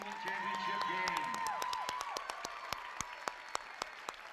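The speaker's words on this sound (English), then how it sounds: "let's give both of these teams a big round of applause on an excellent championship game" Crowd applause at a girls' varsity basketball championship game, Vermilion County tournament, a sustained wash of clapping that gradually thins into a few scattered, sharp claps, with a voice talking over the start.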